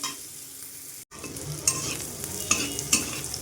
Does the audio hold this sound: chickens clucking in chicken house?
no